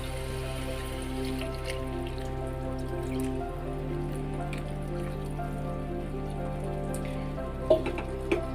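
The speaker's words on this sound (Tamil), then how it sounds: "இப்போ நான் தண்ணி ஊற்றுறேன்." Water pours into a clay pot of chicken curry gravy on the stove, a steady splashing trickle over a constant low hum, with a couple of clinks near the end.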